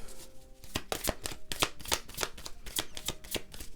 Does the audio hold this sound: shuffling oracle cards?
yes